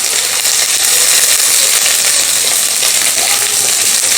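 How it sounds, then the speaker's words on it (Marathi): Chopped garlic and grated ginger sauté in a hot pan, giving a loud, steady, close sizzle that continues unbroken throughout. "आलं आणि लसूण थोडंसं परतून घेऊया"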